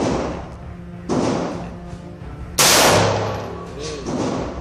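AR-15 rifle fired by a child at an outdoor range, with two sharp loud reports about a second and a half apart, each trailing off in a long ringing decay.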